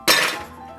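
A quick burst of ice cubes clatters into a glass for a cocktail, one bright, loud clinking crash that fades to a short ringing tail.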